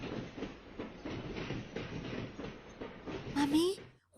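A passenger train rolls along the rails in a steady rumbling clatter with rhythmic wheel clicks, then a rising screech and hiss near the end before a short gap and a sharp final bang.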